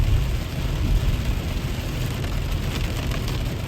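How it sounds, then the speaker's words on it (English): Heavy rain bucketing down in a dense, loud, unbroken roar that holds steady for several seconds, with no voices. "right now it's off to Costco and it's bucketing down again"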